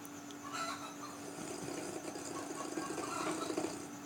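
A motorcycle exhaust rumbles with a diesel-like knocking idle, a faint, steady low throb that gets slightly louder and choppier toward the end, with no talk.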